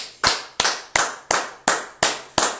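Congregation in church clapping in a steady rhythm, seven sharp, loud claps about a third of a second apart, with no voices over them.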